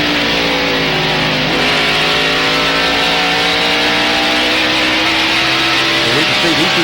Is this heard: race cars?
yes